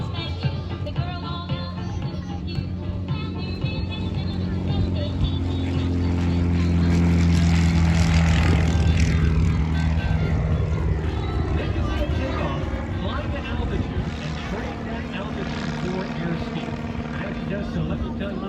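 Taylorcraft propeller airplane on its takeoff roll at the Lake Cumberland Airshow & Fly-In 2021, a steady loud engine drone and propeller buzz that swells in the middle, with an announcer talking over it.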